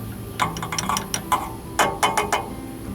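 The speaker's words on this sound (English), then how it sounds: "I got a crescent wrench to pull this off with." A number 12 crescent wrench works a gas line fitting on a Whirlpool water heater, giving a string of close, sharp metallic clicks and ratchety scrapes in uneven bursts over a low background hum.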